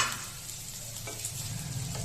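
Food being stirred in a dry pan, a soft steady sizzle with light scraping strokes, close and continuous, no voices.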